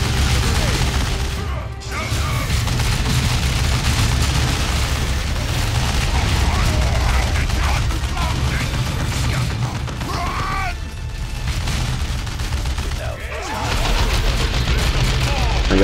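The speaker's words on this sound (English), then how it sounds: "And I'll put a grenade right there." Grenade blasts and gunfire in the Dawn of War 2 video game form a dense, loud, continuous battle din with booming impacts and rattling shots, with a voice talking over it.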